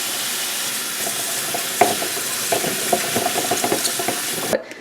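Vegetables being rinsed under a running kitchen tap, a steady close hiss of water with light clattering and splashing as they are moved around, ending abruptly as the flow stops.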